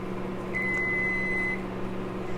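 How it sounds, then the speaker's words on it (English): A single steady electronic oven beep signals preheating has finished, sounding for about a second over a constant low appliance hum. "And that noise is I had the oven preheating, so that just means that the preheat is finished."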